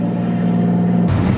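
A 500-horsepower RB26DETT-powered Z32 300ZX with a big Borg-Warner turbo pulls in third gear, its engine droning steadily and loudly from inside the car before the tone shifts abruptly near the end.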